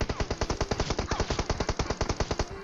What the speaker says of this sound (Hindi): लेकिन तभी फायरिंग होती है।